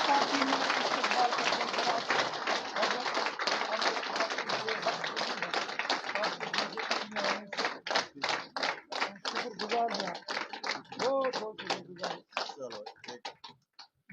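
Loud, dense applause rises from a crowd at a political joining event, welcoming Chaudhary Abdul Ghani into the BJP at party headquarters, and gradually breaks into scattered individual claps before fading out.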